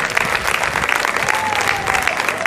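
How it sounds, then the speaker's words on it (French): A church congregation applauds loudly and continuously as a priest arrives for the opening prayer, a dense wash of clapping with a faint tone running beneath it. "Applaudissez le Père jusqu'à ce qu'il arrive"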